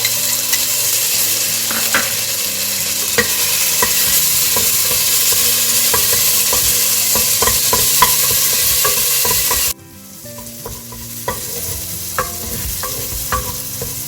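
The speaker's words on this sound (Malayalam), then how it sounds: "ഇനി ഇതിലേക്ക് നമ്മുടെ ജിഞ്ചർ ഗാർലിക് പേസ്റ്റ് ഇട്ട് കൊടുക്കാം." Ginger garlic paste frying in ghee for a green pepper chicken curry, a loud continuous sizzle with frequent spoon stirring taps, dropping abruptly to a quieter sizzle near the end.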